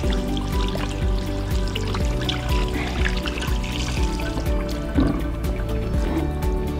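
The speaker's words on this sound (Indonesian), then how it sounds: "Lalu kita bilas di bawah air mengalir." Hands being rinsed under running water, a continuous splashing and trickling stream with small drips and wet squishes, close and fairly loud, no talk.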